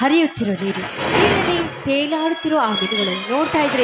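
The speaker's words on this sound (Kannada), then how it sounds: "ಕೋಗಿಲೆಗಳ ಕುಹು ಕುಹು ಗಾಯನ" Birds chirp in quick high bursts early on, with more calls, including cuckoos, scattered behind a voice that keeps talking throughout.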